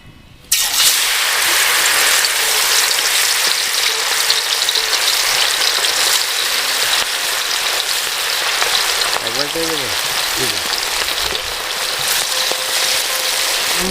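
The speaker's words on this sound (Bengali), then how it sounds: "ভাজি নেবো মাংসটাকে" Marinated chicken fries in hot oil in a wok over an outdoor village fire, a loud, dense, continuous sizzle that bursts in abruptly and holds steady, close up. Faint voices sit beneath it.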